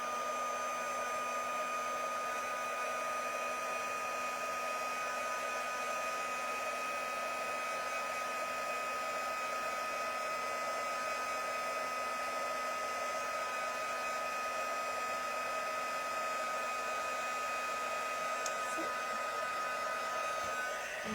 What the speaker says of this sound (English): and then we'll just heat that to get that to set.